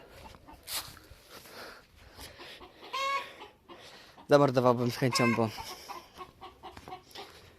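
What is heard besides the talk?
hens clucking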